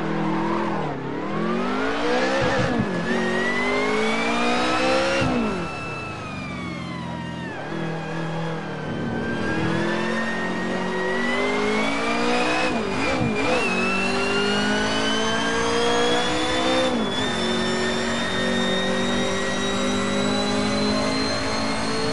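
A BMW racing car in the Assetto Corsa racing game, driven with an H-pattern shifter, revs hard and loud through repeated climbs and gear changes. The engine note rises and drops several times with no talk over it.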